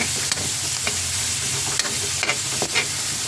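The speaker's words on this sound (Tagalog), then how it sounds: "Tapos nagpiprito na rin ako ng tilapia." Tilapia fries in a pan with a steady close sizzle, broken by sharp crackles and pops.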